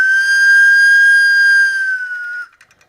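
1980s Faber toy race car whistle, made in Germany: a single loud, sustained shrill tone that holds steady for about two seconds, then stops abruptly, followed by a few faint ticks.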